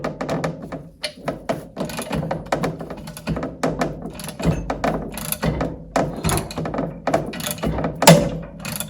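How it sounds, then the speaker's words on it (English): A puller is tightened on an Alpha/Bravo sterndrive outdrive lower unit bearing carrier, giving close, irregular metallic clicks, ratcheting and knocks, with a sharper louder crack near the end. "as I was tightening the puller, it actually cracked the outer portion of the carrier"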